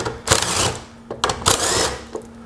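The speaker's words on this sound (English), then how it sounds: "Then I'm gonna grab my 7/16 socket," A 7/16 socket wrench working on garage door hinge bolts: a few short bursts of clicking, rattling ratchet turns with brief pauses between, close and moderately loud over a faint steady hum.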